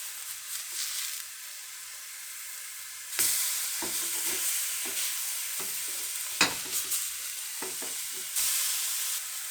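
Thin smashed burger patties frying on a flat griddle give a steady, bright sizzle, broken by several spatula scrapes and taps, fairly close with no talking.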